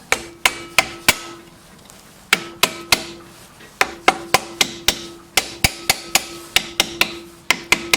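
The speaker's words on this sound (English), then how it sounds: "just use your rubber hammer" Repeated sharp knocks from a rubber hammer tapping a rear brake part on a vintage Vespa PX scooter, in uneven clusters with short pauses between groups, close and fairly loud.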